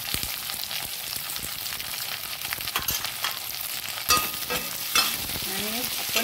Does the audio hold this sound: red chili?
yes